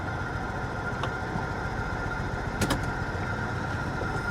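A Toyota Celica engine, misfiring, runs at idle as a steady low rumble heard close, with a couple of faint clicks over it and no voices.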